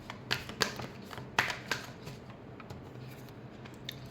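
Tarot cards being shuffled by hand in a quiet room, giving a few soft, brief riffling snaps and flicks spread over several seconds, with no voice over them.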